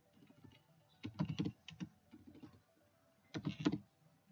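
Code is typed on a computer keyboard: quiet keystrokes come in short irregular bursts of clicks, with brief pauses between them, fairly close.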